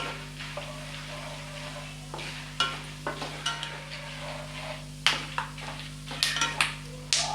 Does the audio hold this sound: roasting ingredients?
yes